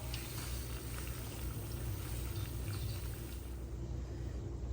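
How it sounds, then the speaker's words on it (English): A Boston butt pork roast sizzles in a hot oven with its lid removed. It makes a continuous crackling hiss at a steady, moderate level, with no talking. "Look at it sizzling now."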